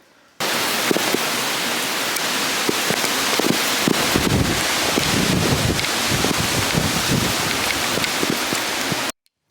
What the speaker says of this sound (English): The gusts are getting super crazy. You can really feel the wind pushing the windows in.